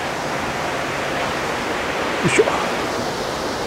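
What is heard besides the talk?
waterfall (O-taki falls, Yokoya Gorge)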